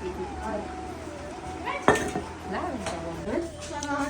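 Ingredients for buknu roasting in a kadhai, with metal utensil scrapes and clinks against the pan and one sharp knock, while people talk throughout.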